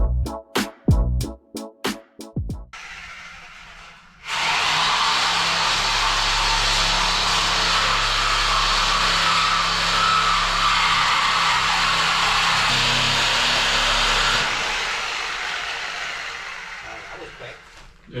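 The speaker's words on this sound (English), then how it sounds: "usually reciprocating saws, they're not like that. They're kind of bounce around" A reciprocating saw fitted with a new blade cuts through bunk beds during a junk removal job, giving a loud, steady buzzing roar for about ten seconds after some knocks and clatter.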